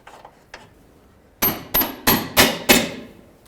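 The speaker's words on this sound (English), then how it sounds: "tap that with a rubber mallet if needed" Rubber mallet tapping a rear lower forward control arm into place on a 2010-2017 Chevrolet Equinox, five sharp knocks in a steady rhythm, close and fairly loud, after a few faint clicks.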